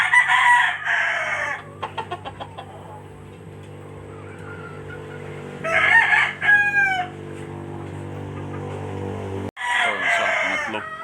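Gamefowl roosters, a White Kelso and a Talisayin Blue Legs with crown, crow loudly and nearby in several separate bursts, with clucking between the crows over a low steady hum.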